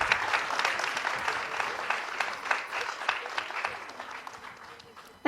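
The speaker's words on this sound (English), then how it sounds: "Please keep the applause going." Audience applause at a panel discussion event, sustained dense clapping from a crowd for about five seconds, steady and fairly loud.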